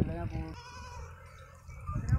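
Sindhi goats, heavy farm animals, bleat in short harmonic calls at the start and again near the end, set among nearby voices talking over the background of the pen.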